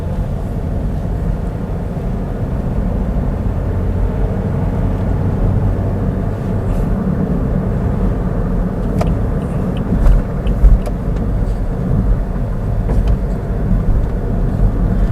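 Steady interior drone of a 2015 Toyota Yaris 1.2 automatic hatchback driving and making a U-turn, loud low engine and road rumble throughout with a few faint ticks.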